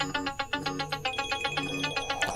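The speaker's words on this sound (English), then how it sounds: "Now you get a phone call, answer it directly from your watch." An Apple Watch Series 3 rings with an incoming phone call, a repeating bright electronic ringtone pulsing steadily and clearly, close and with no voices.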